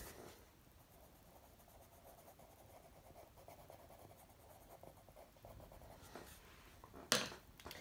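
Pencil rubbing and shading on paper while drawing a black bear: a faint, steady scratchy rub that carries on throughout, closing with a sharper stroke or tap near the end.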